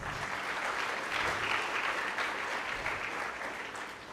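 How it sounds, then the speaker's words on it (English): Sustained audience clapping at a university orientation programme, steady and moderately loud, tapering slightly near the end. "You can clap for them once."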